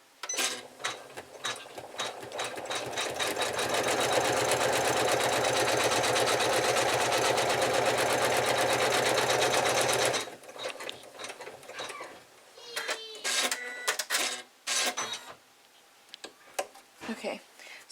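A sewing machine stitches vinyl for a snowman feltie in a fast, even mechanical chatter that runs for several seconds, then stops, leaving sparse clicks and a person speaking quietly.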